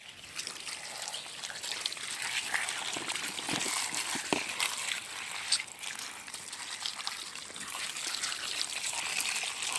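Quinces washed under steady running water, a continuous splashing trickle at moderate level with small knocks of fruit against the container, no talking.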